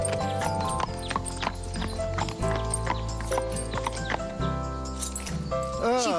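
Horse hooves clip-clop steadily through a riding lesson at an animated farm, a run of fairly close, even hoof beats mixed under continuous music and voices talking.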